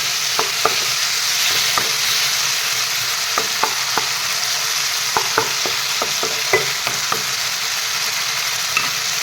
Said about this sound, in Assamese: বিলাহীখিনি নৰম হৈ নাযায় তেতিয়ালৈকে এনেদৰে মই ভাজি ৰাখিম।